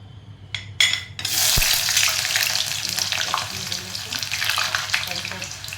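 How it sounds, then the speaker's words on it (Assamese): A few clatters and taps come first, then onions are tipped into hot oil and burst into a loud, sustained sizzle that stays steady and close. "এতিয়া মই প্ৰথমে পিঁয়াজখিনি দি দিম।"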